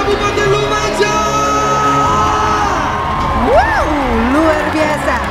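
A stadium crowd at a provincial sports games closing ceremony in Lumajang cheers, whoops and shouts loudly and continuously, with an amplified voice rising and sliding over the roar.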